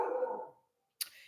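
A dog barks at home, a short, fairly loud burst that cuts off into silence before a sharp, brief noise follows.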